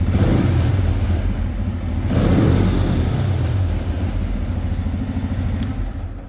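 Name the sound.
24-horsepower VW engine revving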